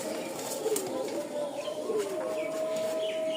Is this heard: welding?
no